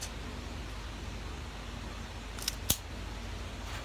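A cigar cutter snips a cigar with one sharp, close click after a faint lead-in tick, set against quiet background hiss with no speech.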